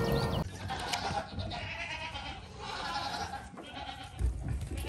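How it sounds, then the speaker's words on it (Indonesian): A goat bleats loudly and close by in a run of repeated, wavering cries that fill the clip, with no talking over them. "Ini kambing, teman-teman."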